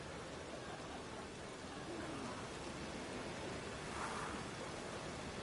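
Steady, hissing rainfall in The Witcher 3 fills the scene evenly, a dense wash of noise with no breaks, moderately quiet and continuous.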